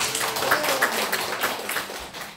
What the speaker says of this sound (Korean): 우리 선생님 박수 한번 주세요.